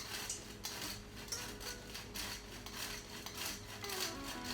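Almond flour, coconut flour, baking soda and salt are shaken through a metal sifter, giving a faint, rhythmic scratchy rasp with regular scraping pulses, close up and quiet.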